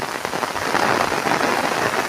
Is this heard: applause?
no